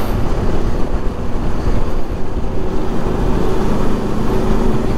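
Truck climbing ahead on a Ladakh mountain road near Chang La pass, a steady loud rumbling engine and road roar heard from a following vehicle, with no talking.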